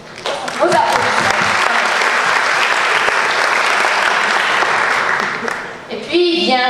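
A hall full of people at a business school's welcome ceremony for new students applauds the teaching staff, sustained dense clapping that swells and holds for several seconds before fading, then a voice starts speaking.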